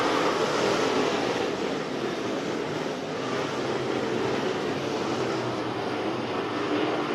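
Modified race cars roar around the Big O Speedway oval in a dense, sustained engine drone that stays loud and steady with only slight swells, with no talk heard.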